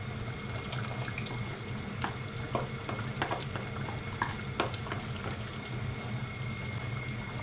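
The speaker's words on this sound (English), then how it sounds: "All right, let's stir this in." Aussie meat pie filling stirred in a pot, with a constant bubbling, sizzling bed of sound and repeated light clicks and scrapes of a spoon at an even pace, close, with no voices.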